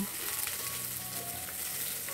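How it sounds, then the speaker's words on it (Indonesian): Sliced spices sautéing in a wok in a home kitchen, a steady close sizzle and crackle of frying that runs alone for the whole stretch, with faint clinks of stirring. "Ini lanjut aku tumis bumbu yang udah aku irisin tadi."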